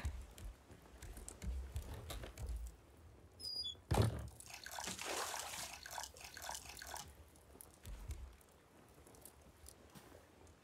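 Water pours into a container in the Raft survival game, a splashing, trickling fill lasting a few seconds amid faint ambient game sounds.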